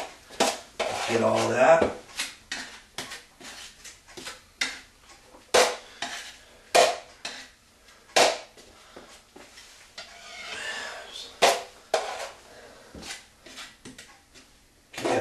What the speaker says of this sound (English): Since I've got some extra in here, I'll clean out my pan a little bit.